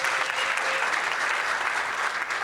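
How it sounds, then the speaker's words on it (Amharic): An audience at a festive awards event for women applauds, a dense sustained clapping that fills the whole moment at close range. "ባካችሁ አንዴ በጣም አጨብጭቡላችሁ"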